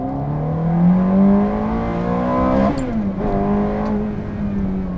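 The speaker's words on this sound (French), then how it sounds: "Ok, elle monte à plus de 8000 tours, sans problème." The new Stratos sports car's naturally aspirated engine revs hard past 8000 rpm, a rising, close, loud howl that peaks, briefly dips at a shift and climbs again.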